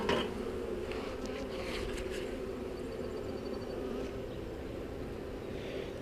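Honeybees buzzing in a dense, steady hum while a nuc is installed into a hive, close and continuous, with soft handling knocks from moving frames and no talking.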